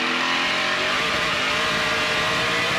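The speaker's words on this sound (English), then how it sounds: "Listen to those rumble strips and how they upset the car." A NASCAR Pinty's Series stock car at speed on a road course, its engine note jumping as it rides over rumble strips through a turn. The engine is loud and close and holds steady with no talk.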